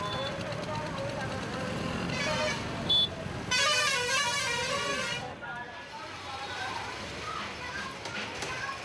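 Car horns honk repeatedly in busy Indian street traffic with engines idling nearby, while someone narrates over the din.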